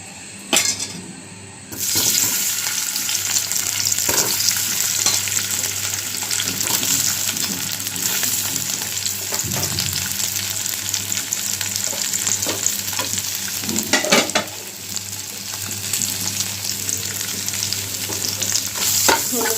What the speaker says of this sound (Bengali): এখন আলুগুলো একটু ভেজে নেব